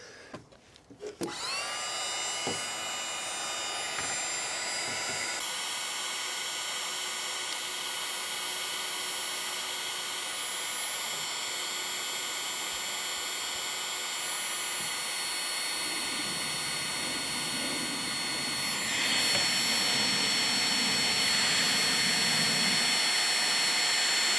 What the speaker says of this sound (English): I've got a heat gun too. These are heat shrink connectors, so I'm going to shrink this down.